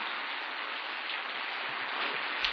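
Rain falls in a steady, even hiss, moderately loud and unbroken, with a faint low thump near the end.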